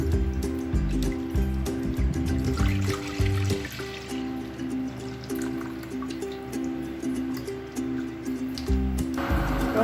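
Half a litre of milk is poured into a kadai for homemade rasamalai: a steady, close liquid stream and trickle runs continuously under a low background hum, with no talking.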